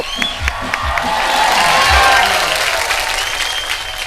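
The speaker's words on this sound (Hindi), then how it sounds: "रिंकू भाभी के लिए जोरदार तालियां दोस्तों" Studio audience on an Indian TV comedy show bursts into loud, sustained applause and cheering for a comic character, building to a dense roar of clapping and whoops.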